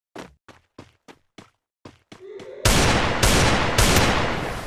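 Gunfire in a shooting video game: a series of sharp separate shots spaced roughly a quarter second apart, then three loud booming blasts with long ringing tails, close and with no voices over them.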